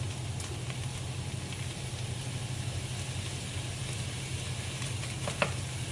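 Two large mushroom caps, cut up, frying in a pan, a soft steady sizzle throughout with a faint clink near the end, no talk.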